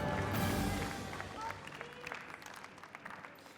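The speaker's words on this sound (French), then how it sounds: "On les applaudit, s'il vous plaît." An audience applauds at a catering competition: a burst of clapping that is loudest at the start, then thins into scattered claps, with a voice talking over it.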